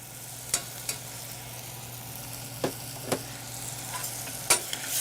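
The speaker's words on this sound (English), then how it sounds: "We're going to stir this up." Tomato paste being stirred into a sizzling pork ragu for rigatoni, a low steady simmer with a hum beneath and several distinct spoon scrapes and taps spaced across the stretch, close and moderately quiet, no speech.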